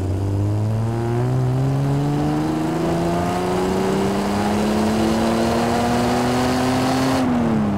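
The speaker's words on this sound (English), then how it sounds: "I'm going to floor the throttle now and see what the throttle response is like." Triumph TR6 engine with mechanical fuel injection revving up from a 900 RPM idle at full throttle, a loud, close, steadily rising roar that climbs for about seven seconds and then abruptly drops off, with no talking.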